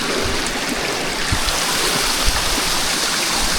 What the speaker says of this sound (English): Massive waterfall.